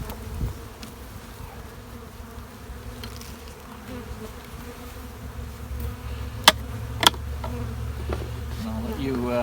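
Honey bees drone steadily around an open hive during spring brood chamber management, a continuous close buzz with a few sharp knocks from handling equipment partway through.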